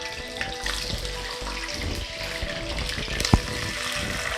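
Chicken liver dropped into about three tablespoons of hot oil, a steady crackling sizzle filling the pan with a brief sharp spike near the end, no voices.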